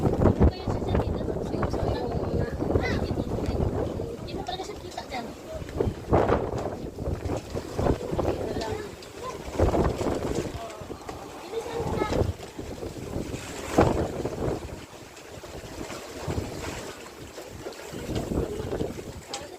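Strong typhoon wind buffets the microphone in continuous gusty roars, with rising water and boat noise underneath and occasional voices.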